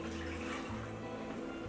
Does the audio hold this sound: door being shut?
no